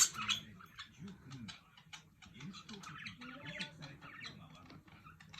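Three pet budgies play nearby, giving soft chirps, scratchy tweets and light ticking and tapping sounds as they knock things about, fairly faint, while a person talks quietly over them.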